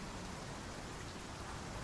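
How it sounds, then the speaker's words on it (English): Steady rainfall inside a survival video game during a thunderstorm, a dense, even hiss of drops on surfaces that fills the whole stretch without a break and with no talking over it. "right now, because of the fact that I'm in rain, it's giving me reduced stamina regeneration"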